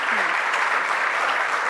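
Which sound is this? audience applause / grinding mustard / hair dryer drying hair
audience applause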